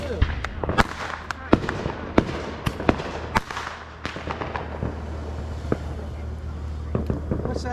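Backyard fireworks rockets fire in a residential neighborhood during an Independence Day celebration, with repeated sharp bangs and crackles near and far over a steady background, while people talk and shout nearby.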